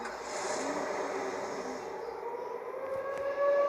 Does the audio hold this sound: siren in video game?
yes